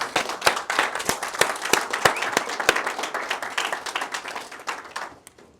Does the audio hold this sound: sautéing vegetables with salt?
no